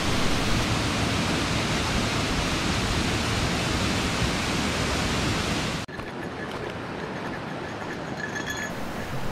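Chagama Falls in Hachimantai, Akita, roars as a dense, unbroken wash of falling water; the steady rush drops abruptly to a quieter, thinner level near the end.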